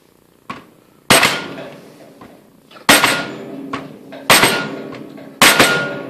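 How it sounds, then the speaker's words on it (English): Sharp plastic hammer blows on a metal lathe quick-change gearbox, four main strikes spaced about a second or two apart, each ringing briefly, with a few lighter taps between. "And shock it with the plastic hammer."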